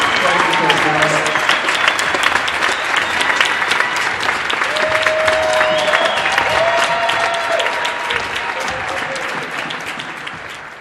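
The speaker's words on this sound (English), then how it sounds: "Let's give a round of applause to Coach Morris and his family" Crowd applause at a high school basketball game honoring a coach, loud steady clapping from the stands with scattered cheers and voices, holding strong before tapering off.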